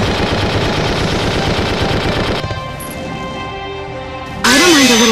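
Gunfire from the tactical war game Valkyria Chronicles 2: a dense, loud stretch of rapid automatic shooting for over two seconds, then a quieter tail with game music, and a sharp burst returning at the end.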